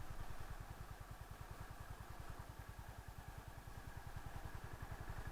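A Honda CB350 motorcycle engine lugs at very low road speed in a low gear, giving a steady, close, rapid thumping beat with some mechanical clatter and no talk.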